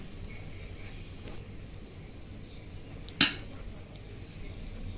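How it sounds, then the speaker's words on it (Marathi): A metal lid is set down on a pan cooking traditional Konkan ras khaproli, a single sharp clink against a quiet background hiss. "परतून घालतो झाकण ठेवतोय"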